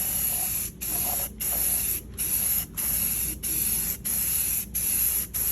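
Spray paint can coating a car engine bay at home, a light first coat with a darker sparkle finish: steady close hissing bursts, about eight in a row, each cut by a brief pause.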